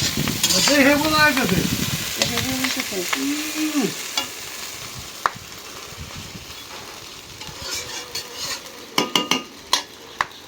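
Food sizzles in a hot wok while a metal spatula scrapes and clinks, with sharper clatters of stirring toward the end.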